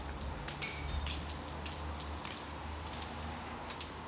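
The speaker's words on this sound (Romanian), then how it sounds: "Plouă de o oră." Rain falls steadily outdoors, a faint continuous patter with scattered sharper drops and a low background rumble, no voices.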